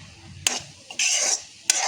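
Masoor dal being stirred in a frying pan: three short scraping strokes of a spoon against the pan, close and distinct, with quiet gaps between them.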